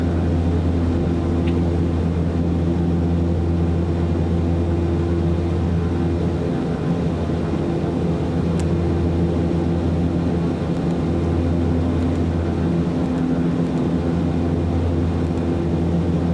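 The Black Square Starship flies in Microsoft Flight Simulator 2024, a loud, continuous cabin drone of engine rumble and airflow that stays steady for over sixteen seconds with faint occasional clicks and no voices.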